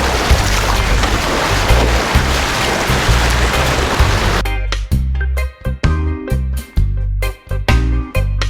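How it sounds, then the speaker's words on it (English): Strong wind on a beach roars across an unshielded microphone in a dense, loud rush at first, then gives way to choppy bursts of gusting noise. "there's a lot of wind on the beach."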